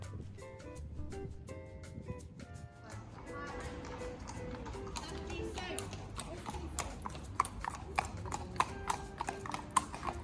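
A horse at a working riding stable in a central London mews clops its hooves on cobbles in a steady, close rhythm, joined by scattered sharper knocks and some faint background talk.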